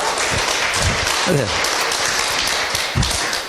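Studio or lecture-hall audience clapping during a talk on meat and nutrition, a dense steady applause running throughout, with a voice speaking briefly over it.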